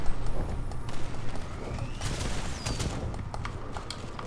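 Grenade launcher fire and explosions in Second Extinction come as a busy run of close bursts and impacts, with a louder cluster at the start that settles into a steady clatter.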